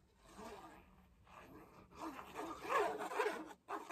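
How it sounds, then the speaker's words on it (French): A rough, raspy scraping of a worn paper guillotine blade slicing through textured paper, rising in intensity over a few seconds, then a brief pause and another pass. "Oui, c'est un papier un peu texturé, donc désolé pour le bruit."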